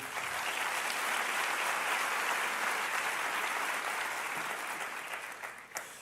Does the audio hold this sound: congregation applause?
yes